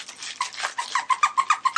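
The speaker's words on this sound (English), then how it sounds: "Now it's squeaking." A dog toy from a BarkBox subscription squeaks repeatedly in a quickening, regular rhythm, loud and close, with no voices over it.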